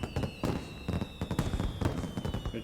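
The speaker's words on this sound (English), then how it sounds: "The fireworks are about to begin." Fireworks in the Chainsaw Man Reze movie crack and pop in a rapid string of sharp, loud bursts over a thin steady whistle, with no talking.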